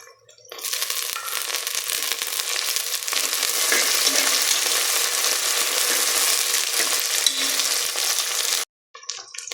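Onions frying with mint and green chillies in a pan for biryani: a loud, continuous close sizzle with stirring, swelling steadily before cutting off abruptly near the end.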